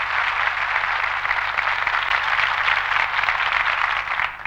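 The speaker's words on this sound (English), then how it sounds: "There's the applause machine." Canned applause played from an applause machine on a comedy show, a steady, even wash of clapping that holds at one level for several seconds.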